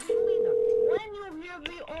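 A telephone dial tone from the video game Irony Curtain, a loud steady tone lasting about a second before a voice speaks.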